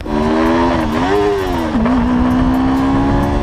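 A 2019 Yamaha YZF-R3 300 engine revs loud and close after popping out of gear, its pitch climbing, dipping and then settling into a sustained high whine.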